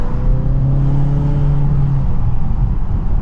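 Mazda6 Wagon gasoline engine revving up, a loud, close rising drone with clear tonal harmonics that climbs smoothly for about two seconds, then eases back to a rumble.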